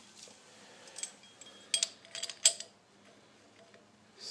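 A lid set onto a Kaloud Lotus heat manager on a hookah head, giving a few light metallic clinks and scrapes close by, with quiet pauses between the contacts and no talk.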